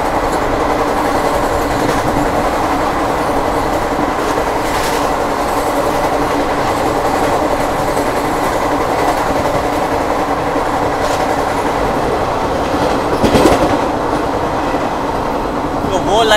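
An Amritsar–Mumbai Paschim Express rolls along Indian rails with a steady, close rumble and clatter that holds for the whole stretch, swelling briefly louder near the end.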